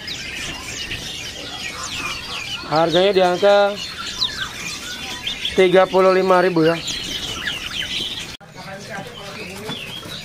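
Pleci walasea white-eyes at a bird kiosk give quick, high chirps and twitters throughout, with flutters among them, while someone talks nearby over the birds.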